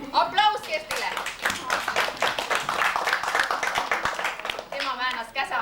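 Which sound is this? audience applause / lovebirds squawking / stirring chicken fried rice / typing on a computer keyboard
audience applause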